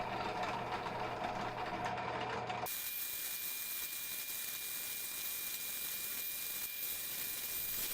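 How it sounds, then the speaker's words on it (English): A drill press pre-drilling holes in a plywood template, heard as a mechanical whir that cuts off abruptly after a few seconds, leaving a steady hiss with a thin high whine. "I took it over to the drill press and pre-drilled all the holes"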